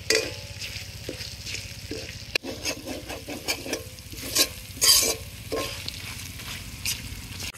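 Bay leaves, dried chillies, chilli powder and turmeric spit and crackle in hot oil, a close, steady sizzle punctuated by sharp pops and stirring scrapes throughout.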